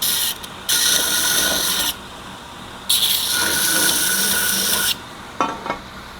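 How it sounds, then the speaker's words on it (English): Metal part lightly ground on the flat platen of a belt sander fitted with a Bora 120 grit belt, two sustained rasping passes with the motor whirring between them and a short scrape at the end; close and loud. "I'm just gonna kiss it on this flat platen with this Bora 120 belt"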